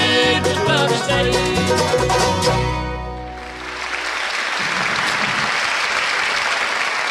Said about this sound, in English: Appreciate the nice applause.